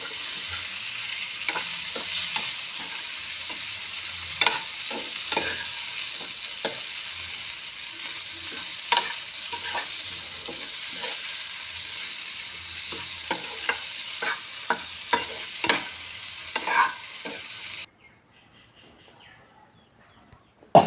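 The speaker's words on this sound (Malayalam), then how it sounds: "നമ്മളെ കാടമുട്ട ഇട്ട് കൊടുക്കാം" Quail eggs fry in a pan with wilted onions, a steady close sizzle broken by frequent sharp stirring scrapes for about eighteen seconds before the sound drops off to near silence.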